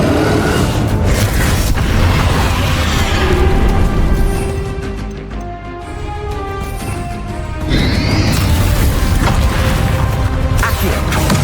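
Confringo fire spell blasts in Hogwarts Legacy on PS5 Pro, loud crashing booms and bursts packed densely in battle, easing briefly mid-clip before the impacts return at full force.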